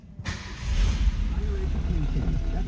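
A 1966 Ford Thunderbird Landau engine cranks and catches, a low rumbling idle rising after a short start and holding steady, with someone talking over it.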